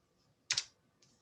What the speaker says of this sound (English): I'm going to close my keyboard tray really quick so my thread won't catch on it